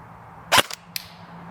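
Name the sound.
airsoft gun firing BBs through chronograph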